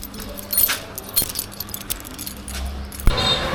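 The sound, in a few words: bike keys jangling as they are thrown down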